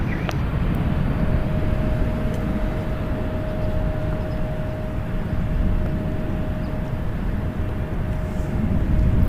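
A Southwest Airlines Boeing 737-800 jet departing San Francisco International Airport gives a steady, loud broadband roar with a thin sustained whine, holding level throughout with no voices.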